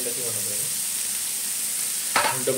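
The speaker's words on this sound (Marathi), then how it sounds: "तर बघूया आता अंडा वगैरे जरा फ्राय होते" Egg fries in a pan for egg bhurji, a constant bright hiss of hot oil with faint background voices, and a louder burst near the end as more is stirred or added.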